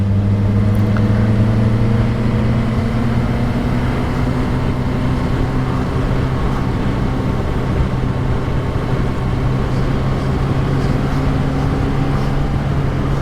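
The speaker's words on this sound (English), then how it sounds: "It's midweek and there's just lots of traffic" A steady engine drone with sustained low tones hums throughout, riding a Suzuki GSR600 motorbike amid midweek road traffic, with faint passing vehicle noise in the background.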